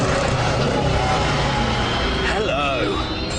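A Dodge Challenger SRT8's 6.1-litre V8 engine revs and roars continuously up close, the pitch sweeping upward near the end as it accelerates.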